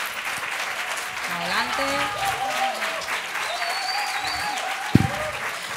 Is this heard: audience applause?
yes